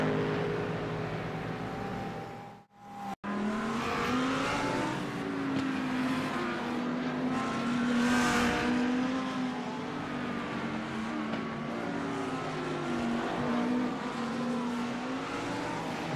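GT3 race cars, including an all-white Lamborghini, in a sim racing game at Long Beach, with a steady loud engine drone and shifting revs, a brief dropout near the start, and no voices.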